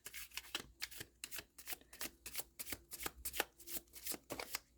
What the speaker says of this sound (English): quick check to see how it shuffles